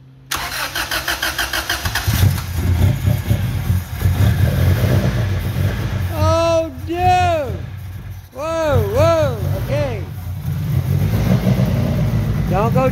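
A Honda B-series B18 car engine cranks and fires up for its very first start, then revs in a few loud rising and falling bursts over a steady running note, with people talking excitedly throughout.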